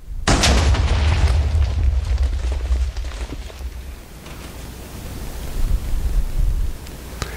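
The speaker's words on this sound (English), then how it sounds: "The TNT blows up." Minecraft TNT (version 1.13.2) detonates next to netherrack, a single loud, deep boom that hits suddenly and then rolls into a long, fading rumble, with no talk.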